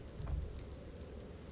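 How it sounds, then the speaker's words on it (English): Rain falls in the video game Empty Shell. It is a soft, steady patter, faint and distant, with a brief low rumble near the start and no voices. "Rain."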